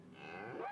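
An Irish dairy cow gives a single close, rising moo that swells in loudness and lasts under a second.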